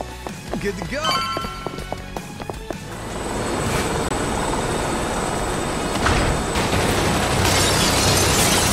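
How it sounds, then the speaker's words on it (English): A helicopter in the video game Like a Dragon Infinite Wealth, a steady loud rotor roar rising after a few seconds of game effects and clatter, continuing to the end; speech is heard at times. "Oh, that's the helicopter from GTA Online."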